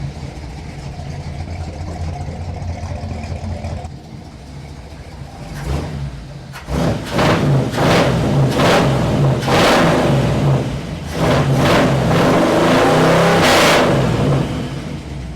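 A 1955 Ford engine fitted with a Holley 4000 carburetor idles with a low rumble, dips briefly, then takes a series of sharp throttle blips and longer revs, loud and close, with no talking.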